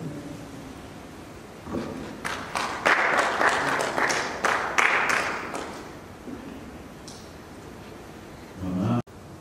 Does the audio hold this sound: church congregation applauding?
yes